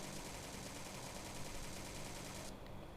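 Rapid automatic fire from a QBZ or M416 assault rifle in a shooter video game, a dense continuous burst of shots that holds steady for about three seconds, loud and close, with no voices.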